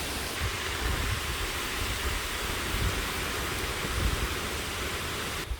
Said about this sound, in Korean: 와 바람 너무 많이 붑니다